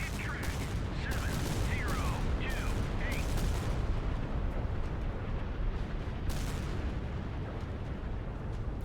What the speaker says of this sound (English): I can hear the missiles coming in.